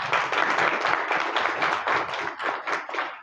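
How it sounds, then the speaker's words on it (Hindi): Enthusiastic applause from an audience at a creators summit in Jammu and Kashmir, dense steady clapping filling the hall, loud and sustained without any talk over it. "जोरदार तालियां हो जाएं।"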